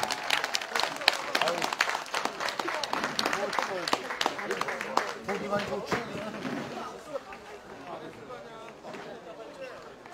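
Crowd at a local football match opening applauds both teams at halftime, brisk clapping mixed with cheers and background chatter, loud at first and fading toward the end.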